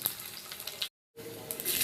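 Garlic dropped into hot oil with mustard seeds and cumin on a griddle, a close, steady hiss of sizzling and spattering that cuts out briefly and then returns louder with crackling pops.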